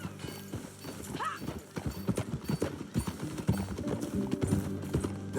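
Horse hooves clip-clop steadily through a Red Dead Redemption 2 ranch scene, with a short neigh rising early on, the riding sounds layered over game music and ambience.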